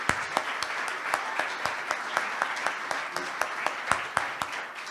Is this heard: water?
no